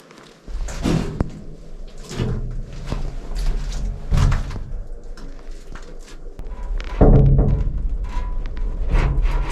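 A door is tried and forced open, with a run of loud knocks, rattles and scraping thuds at irregular intervals, close by and heavy, ending in a louder burst of banging and creaking.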